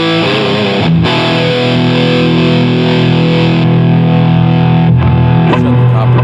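A guitar run through a Granville Super Chief tube amplifier, loud and heavily distorted, with thick sustained chords ringing steadily, briefly cut twice and struck again, alone with no talk.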